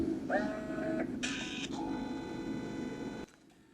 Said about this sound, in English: your little colour label printer starts to work